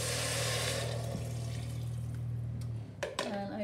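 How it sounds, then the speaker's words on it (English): Vegetable stock pours steadily into a cooking pot, a continuous close liquid rush lasting a few seconds before it cuts off, followed by a couple of brief knocks. "I'm going to add 750 mils of vegetable stock"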